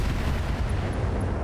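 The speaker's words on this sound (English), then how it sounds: "Send him some plasma cannons just from me to you." Plasma cannons fired by a mech in a BattleTech-style video game, a dense, loud roaring barrage that fills the whole moment with no voices over it.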